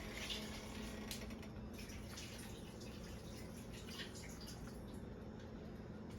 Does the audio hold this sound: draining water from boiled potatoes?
yes